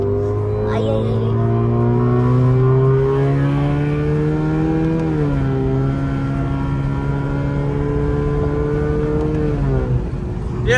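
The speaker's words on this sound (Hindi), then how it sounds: "भाई एग्जॉस्ट की साउंड क्यों नहीं सुना रहे हम" A vehicle engine drones loudly and steadily from its exhaust, its pitch dipping and recovering twice, close by and continuous, with faint voices underneath.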